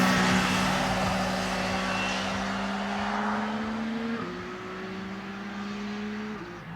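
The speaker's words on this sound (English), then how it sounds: "the engine sound is just phenomenal" A CF Moto 675 SRR sport motorcycle engine drones steadily with a rising pitch, then drops as it shifts gear and climbs again, heard from on the bike with wind noise.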